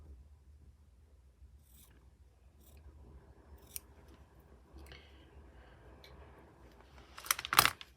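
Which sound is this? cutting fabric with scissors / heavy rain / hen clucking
cutting fabric with scissors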